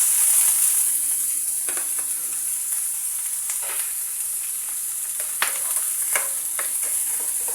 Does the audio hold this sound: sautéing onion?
yes